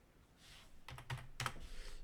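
A computer keyboard is typed on in a few quiet, close keystrokes, ending with a firmer press like an enter key, all faint against a low background hum.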